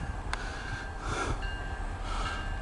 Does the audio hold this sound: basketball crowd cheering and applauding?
no